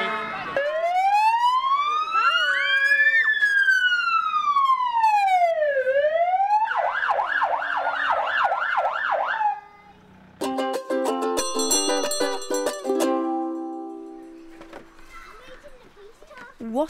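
A police car siren sounds loud and close, moving from a slow rising and falling wail to a fast yelp and then to stepped alternating tones before fading lower at the end.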